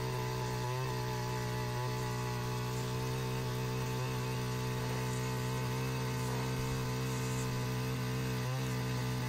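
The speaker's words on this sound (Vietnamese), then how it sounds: "Bây giờ chúng ta cùng xem máy đang khoan với đường kính mũi khoan là 300." A Takeo TK3B petrol wheeled earth auger with a 300 mm bit bores into hard red hill soil thick with coffee roots, its small engine droning steadily and loudly throughout with slight labouring dips.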